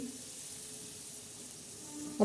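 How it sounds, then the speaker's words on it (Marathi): Frying vegetables hiss softly on a hot tava where water has been poured, a faint, even sizzle that rises slightly at the very end, with no talk. "तव्यावर टाकलेलं हे पाणी"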